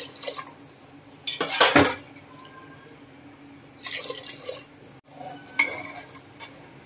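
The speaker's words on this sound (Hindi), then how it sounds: "उस हिसाब से हम लोग 4 कप ग्लास भर के पानी ऐड कर देंगे।" Water poured into a cooking pot while making masoor pulao, a few splashing bursts with clinks of a glass or utensil between quieter gaps.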